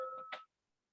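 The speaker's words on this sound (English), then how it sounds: "Sorry, my phone is ringing." Mobile phone ringing indoors, a short electronic tone burst that cuts off after about half a second, fairly quiet and heard alone.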